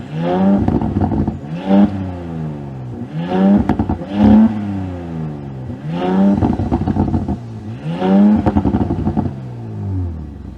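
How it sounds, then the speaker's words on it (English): An Audi S5 V6 exhaust is revved five times in a row, each burst rising sharply and dropping back to idle, loud and close. "Let's hear how some of that V6 exhaust sounds."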